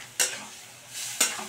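Green tomatoes are stirred with spice paste in a pan, two short scraping strokes of the spoon against the pan with a soft sizzle of frying underneath, close and fairly quiet.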